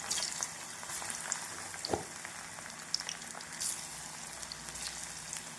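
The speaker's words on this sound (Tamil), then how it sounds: "இப்பொழுது நாம் எண்ணெயில் பொரித்து விடலாம்" Cauliflower florets deep-frying in hot oil for cauliflower 65, a soft, steady bubbling hiss with scattered pops and one distinct utensil knock, fairly faint and without speech.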